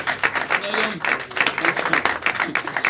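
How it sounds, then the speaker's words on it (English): Scattered clapping from an audience at a live comedy show, uneven and moderately loud, mixed with a voice or two talking over the claps. "Clap if you're down for a fun, clean show, everyone."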